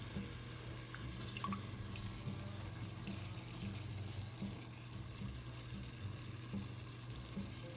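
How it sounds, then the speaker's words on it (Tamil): Basmati rice being washed under a running kitchen tap, a faint, steady stream of water splashing continuously with no talk. "நல்லா வாஷ் பண்ணணும் பாஸ்மதி ரைஸ்."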